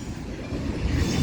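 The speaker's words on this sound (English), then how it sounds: "this train needs to hurry up" A BNSF mixed freight train rolls past near Central Avenue, a loud, close, continuous rumble with rail clatter and faint wheel squeal.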